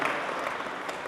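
Applause from an audience at a grand mushaira poetry gathering in London, a dense, steady patter of many clapping hands that holds at an even level through the short moment, with no voices on top.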